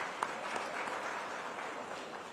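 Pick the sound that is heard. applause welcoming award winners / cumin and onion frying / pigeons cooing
applause welcoming award winners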